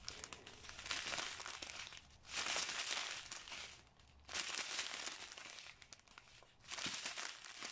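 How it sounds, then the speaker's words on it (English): A sealed plastic bag of diamond painting drills is crinkled and handled in several loud bursts separated by brief quieter pauses, close up and with no talk. "I love that crinkling sound."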